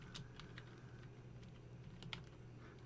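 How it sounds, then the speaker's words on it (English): Quiet, quick typing on a computer keyboard, with a run of light key clicks at an uneven rhythm, close and alone. "Now I'm going to type my last name."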